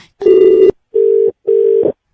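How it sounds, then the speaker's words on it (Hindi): A telephone line gives three steady electronic tones, one longer buzz and two shorter ones with short silences between, loud and close, while a call is being placed again. "वापस लगा रहा हूँ।"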